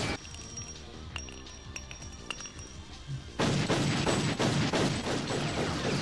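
Gunfire from an anime episode of Cowboy Bebop: scattered sharp shots and clicks over a low background, then a sudden loud sustained burst of rapid fire and crashing that fills the rest.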